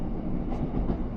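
A train on the Helsby to Ellesmere Port line near Stanlow and Thornton rumbles steadily as its wheels clatter on the rails, a close, continuous low roar heard from on board, with no talking.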